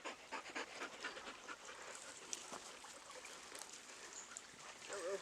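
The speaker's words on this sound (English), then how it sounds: "Alright, got the dogs out running." Several dogs panting outdoors on a morning run at a car camping spot in Northern California, steady quick breathy panting close by with a faint rustling background and no talk.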